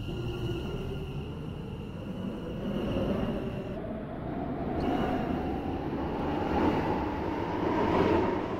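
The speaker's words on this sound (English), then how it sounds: "Train is formed of five coaches." A five-coach train in a Roblox-style rail simulator rolls past at Beechley station, a steady broad rumble and rail roar that swells and fades with no talk over it.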